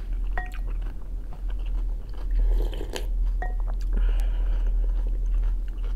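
Close-up chewing and biting while eating pea soup with a salad dressed in fragrant oil, no bread, at a table; steady soft mouth sounds with a few crisper crunches, no talking.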